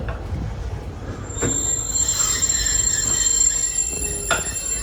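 A Walt Disney World Railroad train at Magic Kingdom rumbles and slows with a long high-pitched wheel squeal, brakes hissing as it comes to a halt.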